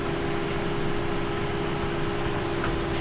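A loud John Deere tractor engine drones steadily in Farming Simulator 17, a constant mechanical hum with a strong tonal whine, unbroken and without any talk over it.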